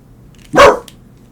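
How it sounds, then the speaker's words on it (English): A single sharp dog bark rings out close by, short and loud, with quiet before and after. "I don't know why Chappie's barking."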